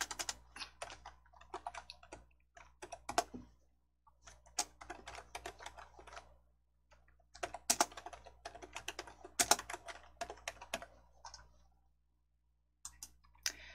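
Bursts of typing on a computer keyboard during a Korean word-processor lesson, rapid clicky keystrokes in clusters separated by short pauses, close and fairly quiet, with no talk.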